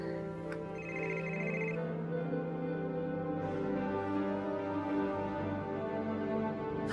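A telephone rings with repeated electronic bell tones over a sustained musical drone, fairly clear and near, with no talking during the ringing.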